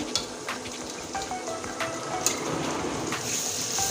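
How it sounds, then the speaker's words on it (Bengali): Cumin paste and chili paste sautéing in a pan for ghugni, a steady close sizzle and fry crackle running the whole time with a few louder spits and the scrape of stirring, no voices. "এবার আরো সুন্দর করে কষতে থাকবো"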